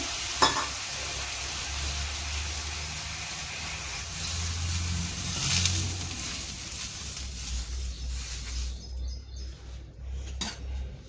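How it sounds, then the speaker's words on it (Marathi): Water hits a hot dosa griddle and sizzles loudly in a broad hissing burst, then fades into a low hum with a few faint clatters. "आता आपण तवा तापला का काय बघायचं. पाणी सोडायचं."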